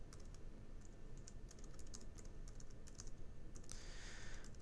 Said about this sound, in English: now I want to type in the album name